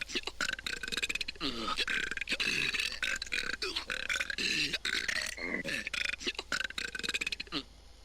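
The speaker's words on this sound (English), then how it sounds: "And then you'll hear the belching, which is for talking." A character in a Dreams PS4 platformer game belches repeatedly in place of speech, a long string of loud, rapid burps that runs almost without pause before stopping near the end.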